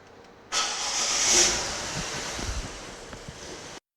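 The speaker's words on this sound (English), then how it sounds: "We're going to start the car for now." A car engine being warmed up for an exhaust gas analyser test starts and runs steadily for a few seconds, a close, broad rumble with hiss and no voices over it.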